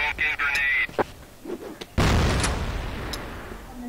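A grenade blast in a first-person shooter game, a loud sudden boom followed by a long noisy rumbling decay, preceded by brief gunfire clicks and sharp game effects.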